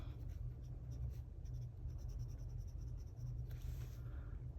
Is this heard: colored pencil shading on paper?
yes